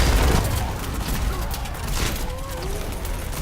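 Gunfire in Call of Duty: WWII Zombies, dense rattling shots and booms in a loud, continuous barrage, with some voice mixed in.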